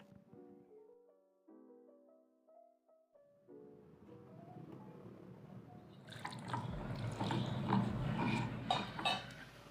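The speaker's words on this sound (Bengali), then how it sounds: "মা প্রথমে ওই লাউ ডাঁটাগুলোকে কেটে জলে পরিষ্কার করে নিলেন।" Chopped bottle gourd stalks are rinsed in water, giving close splashing and dripping sounds that rise in the second half after a soft musical opening.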